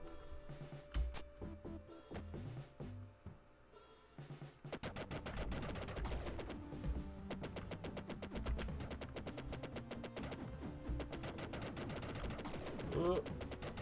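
Pistol shots in the video game And All Would Cry Beware, a few sparse shots at first, then a dense rapid stream of gunfire with game sounds while someone talks over it.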